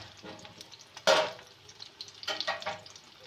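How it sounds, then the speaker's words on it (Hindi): Beef shami kebabs fry in a pan over medium heat with a soft, steady sizzle, broken by a sharp crackling burst and a few louder spits later on. "ये मैंने मीडियम आंच पे इनको बना रही हूँ। ज़्यादा चूल्हा तेज़ नहीं है ताकि अच्छे से फ्राई हो।"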